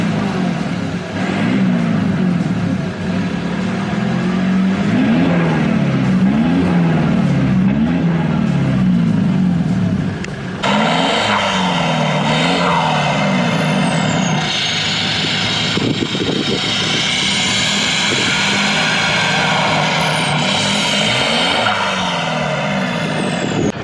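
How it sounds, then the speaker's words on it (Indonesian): A Ford Ranger T6 with a T7 turbo and its resonator and muffler removed idles and runs with a loud, continuous engine drone, then a rising turbo whistle joins in partway through and keeps sweeping up over the rumble. "Jadi di mobil ini yang bikin beda suaranya itu sebenarnya selain turbonya udah pakai yang punyanya T7, habis gitu untuk resonator sama mufflernya itu udah dilepas"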